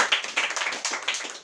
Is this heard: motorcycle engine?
no